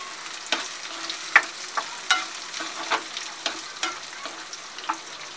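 Dry fruits and pistachios roast in a pan on low heat, with a soft sizzle under steady rhythmic stirring scrapes about twice a second and no talking.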